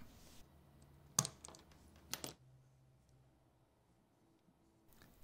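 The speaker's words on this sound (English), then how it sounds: "Both pinch rollers can be clicked out using a small screwdriver." Pinch rollers on a Philips Digital Compact Cassette player being clicked out with a small screwdriver: a few sharp, close plastic clicks and snaps in a quiet room, separated by brief pauses.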